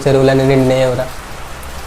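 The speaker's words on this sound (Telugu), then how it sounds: "జోరు వాన కొడుతుంది" Heavy rain pours down in a village, a steady broadband hiss that emerges clearly once a voice speaking over it stops.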